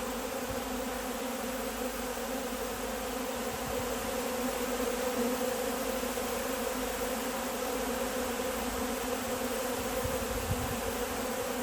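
Honeybees buzzing steadily around an open feeding station set out for winter feeding, with a few wasps among them; a dense, continuous close swarm drone with no talk throughout.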